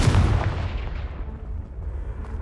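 A Confringo blasting spell in Hogwarts Legacy explodes as one loud, deep boom right at the start, then rumbles and fades over about two seconds, with no talking.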